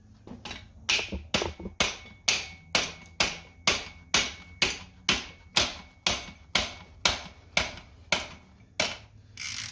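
Steel mallet blows ring out on tight engine bolts during a Ford Fusion 2.5L engine teardown, about twenty sharp, evenly spaced strikes in a steady rhythm, close and loud with no talking.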